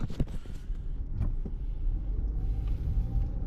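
A car drives along a road, its low rumble and road noise steady throughout, with a few faint thumps early on and no voices.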